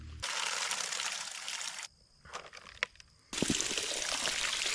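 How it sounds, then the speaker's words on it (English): Water pours from a tap along a backpacking trail by the Buffalo River, a steady broadband splash that runs for a couple of seconds, breaks off into a few faint drips, then gushes strongly again, close and loud. "I got water out of this tap here."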